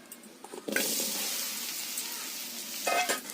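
Marinated okra hits hot mustard oil in a heated wok with a sudden loud sizzle that settles into a steady frying hiss, with a second surge of spattering near the end; no one speaks.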